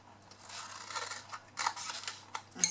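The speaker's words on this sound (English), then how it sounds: "we are going to cut away these small rectangles on the end and a small wedge" Scissors snipping small rectangles from cardstock for a paper gift box, several close, crisp cuts and blade clicks in irregular bursts against a quiet background.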